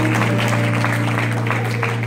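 A church crowd in Fort Myers applauds to welcome a gospel singer, a steady, dense wash of clapping under a low electrical hum, with no break in the noise.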